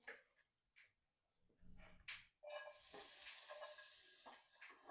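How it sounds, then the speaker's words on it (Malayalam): Sliced onions and green chillies drop into oil in a hot pan and start sautéing, a few quiet knocks followed by a sudden rising hiss that settles into a steady, soft sizzle close by. "വഴറ്റാന്ന് വെച്ചാൽ സവോളയും പച്ചമുളകും ഇട്ടു."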